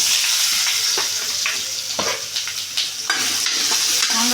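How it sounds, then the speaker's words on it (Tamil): Raw mango pieces stir-fry in coconut oil with a bright, steady sizzle broken by several scraping, clattering stirs of a spoon against the pan, close and fairly loud, with no talk. "மாங்காய் போட்டு கொஞ்சம் நல்லா வணக்கி விட்டுக்கலாங்க."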